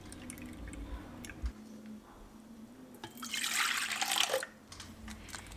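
Liquids poured for baklava dough, milk, vegetable oil and water going into a bowl: faint drips and small splashes, then a louder burst of pouring lasting about a second and a half before it stops.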